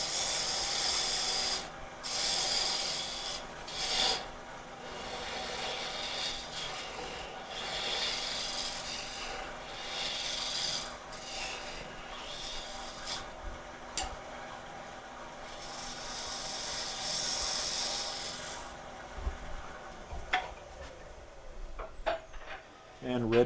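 A wood lathe spins a bowl while a tool plunges in to cut a recess, giving a continuous close scraping and rasping that swells and eases under a steady motor hum, then stops near the end.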